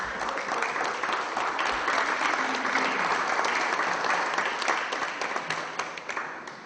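A packed room at an annual members meeting of a community television station breaks into sustained applause, dense steady clapping from many hands that holds for several seconds before thinning toward the end.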